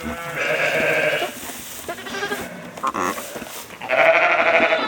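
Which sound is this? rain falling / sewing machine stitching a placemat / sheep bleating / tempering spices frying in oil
sheep bleating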